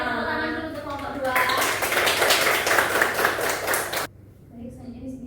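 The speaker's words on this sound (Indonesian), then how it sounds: "tepuk tangan dulu untuk kelompok 2" Elementary school class applauding a student group during a science lesson, a burst of many small hands clapping after brief talk, ending abruptly into quiet speech.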